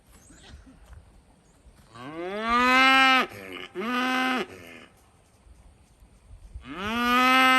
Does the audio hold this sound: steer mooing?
yes